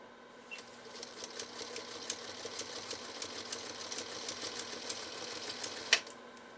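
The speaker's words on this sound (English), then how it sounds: "lay down a single stitch layer" A restored Singer Featherweight sewing machine stitching a single layer, running with a steady rapid mechanical ticking and hum, faint and close, with a slightly louder clack near the end.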